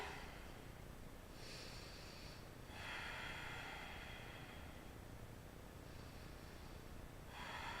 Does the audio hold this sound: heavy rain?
no